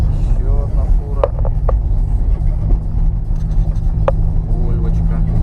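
A semi truck passing by on a frozen ice road across the river between Yakutsk and Nizhny Bestyakh in December, a steady low rumble of traffic under a voice in the vehicle.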